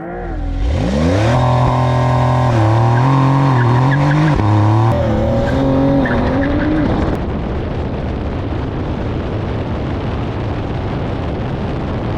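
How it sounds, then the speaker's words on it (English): A Porsche 992.2 911 Carrera S launches hard on launch control, its engine roaring loud and close as it revs rise through several upshifts, then fading into broad road and wind noise. "we're going to do left foot brake, right foot gas, launch control, and there we go."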